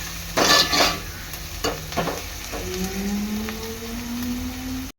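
Onions stirred in a hot pan for Koli-style chicken sukka, with a steady sizzle beneath repeated scraping strokes of a spoon, the loudest bursts of stirring coming early.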